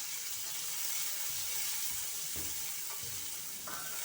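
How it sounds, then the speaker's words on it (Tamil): Onions, small shallots and dried red chilies fry in a pan, giving a steady close sizzle with occasional soft stirring knocks. "இப்போ வெங்காயம், வரமிளகாய் இதெல்லாம் நல்லா வதங்கட்டும்."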